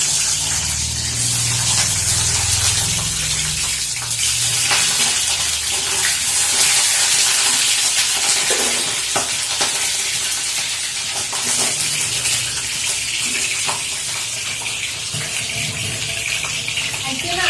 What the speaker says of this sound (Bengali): হলুদটা আগে দেওয়া হয়নি, সেই জন্য তেলটা খুব ফুটছে